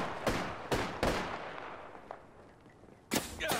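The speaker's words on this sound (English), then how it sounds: "Getting shot at." Several sharp gunshots from Apex Legends ring out in quick succession, a few close together near the start and another after a short quiet gap, loud and crisp with no talking.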